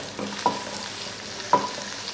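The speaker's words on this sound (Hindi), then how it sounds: "हल्का सा इसको फ्राई करेंगे" Chopped onion and crushed garlic frying in about two tablespoons of oil for a chicken white sauce pasta, a steady soft sizzle with two brief scraping stirs of a spoon, close and without speech.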